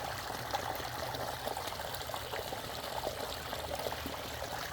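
A small solar-powered garden water spitter trickles steadily into a shell basin beside a pondless waterfall, giving a continuous, even, fairly quiet stream with no voices.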